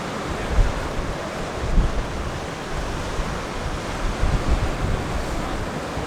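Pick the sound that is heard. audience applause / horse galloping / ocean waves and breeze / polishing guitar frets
ocean waves and breeze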